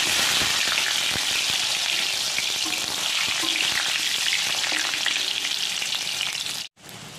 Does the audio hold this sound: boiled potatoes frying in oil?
yes